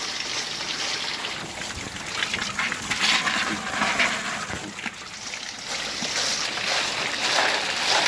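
Gold-bearing material is washed in water at Boston Bar, with steady splashing and sloshing as water is swirled, loud and continuous throughout, without voices.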